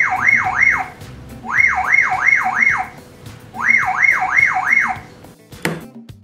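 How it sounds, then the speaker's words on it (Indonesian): Anti-theft alarm on an Onassis X7 Pro smart door lock with 3D face recognition, blaring in loud repeating bursts of rapid warbling whoops separated by short pauses, then ending with a sharp click. "Jika kita aktifkan, siapapun yang melihat membuka kunci pintu akan memicu alarm pada door lock ini."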